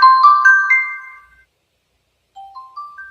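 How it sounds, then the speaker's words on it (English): A phone alarm rings in a melodic series of bright electronic tones, several quick chiming notes, then a pause before the tune starts again, heard clearly with no talking. "that's my alarm that it wouldn't shut up about."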